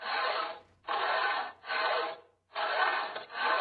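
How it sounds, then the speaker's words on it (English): Sawing through ceiling boards on a building's first floor in the video game Steins;Gate Linear Bounded Phenogram: four long, rasping back-and-forth strokes separated by short gaps, close and steady with no voices. "Right now, I'm sawing away at the ceiling boards on the first floor."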